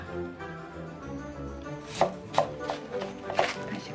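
A kitchen knife chops peeled radish and napa cabbage into small thin squares for nabak kimchi, a handful of crisp, close knocks on a cutting board in a loose, uneven rhythm with no talking.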